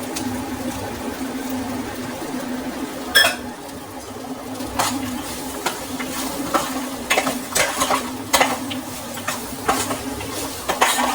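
Okra rice frying with chilli powder, turmeric, salt and pepper is stirred in a pan: a low sizzle runs under repeated sharp scraping clicks of a spoon against metal, coming in irregular bursts that grow busier toward the end, with no voices.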